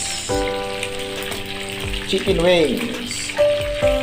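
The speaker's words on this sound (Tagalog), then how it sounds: "fried chicken wings, diba? Fried chicken wings." Chicken wings fry in hot oil with a steady, loud sizzle and crackle, broken by a few metallic clinks and a brief whistling tone, close up and without speech.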